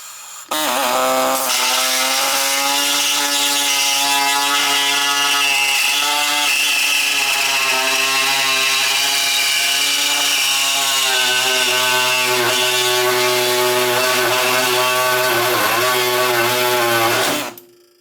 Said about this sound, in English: I got my air saw here